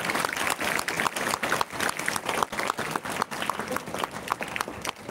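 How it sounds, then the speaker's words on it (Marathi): Sustained applause from a large audience at a school's 50th golden jubilee celebration, a dense, fluttering patter of clapping hands that stays fairly loud throughout. "एकदा जोरदार टाळ्या झाल्या पाहिजे आपल्या सर्वांसाठी."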